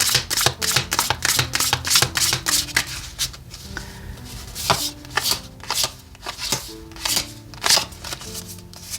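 Tarot cards shuffled by hand in a long run of crisp riffling flutters and soft slaps, close and loud, in repeated bursts throughout.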